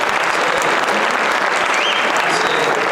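A conference audience gives a dense, sustained round of applause for Rob Skiba, loud and steady throughout with no break or speech over it.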